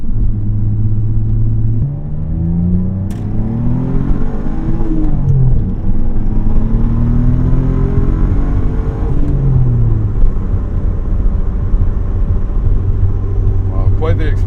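A 1992 Dodge Stealth R/T is driven from inside the cabin, its engine a loud close rumble that rises and falls through gear changes and revs. Voices talk over the engine noise.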